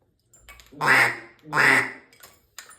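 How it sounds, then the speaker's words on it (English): Two strong quacks from a duck call, close and loud, framed by softer breathy clicks and puffs of air. "And that'll give you a good quack sound."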